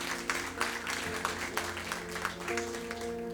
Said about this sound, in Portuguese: Bate, aplauda, aplauda.